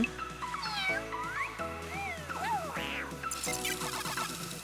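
A cat meows several times in varied, rising and falling calls, close by, over a quiet background with some soft bird-like chirps.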